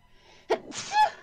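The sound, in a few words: sneeze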